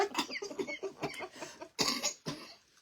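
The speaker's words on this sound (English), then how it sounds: "don't make me cough" A run of several sharp coughs close by, bursting out in uneven succession with short gaps, ending in quieter breathing.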